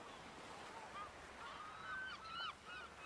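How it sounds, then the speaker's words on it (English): Distant birds call in short honking cries over a steady wash of surf, faint and outdoors, several calls bunching together near the end. "You can hear the seabirds calling."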